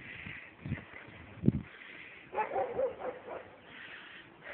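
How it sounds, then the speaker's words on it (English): A dog barks far off near the Kamili Fortress ruins in Hisar, Bulgaria, a few faint, scattered barks carried over quiet open-air background noise. "There's a dog barking over there somewhere."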